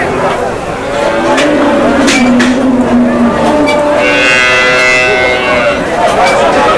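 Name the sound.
dairy cows mooing at a cattle market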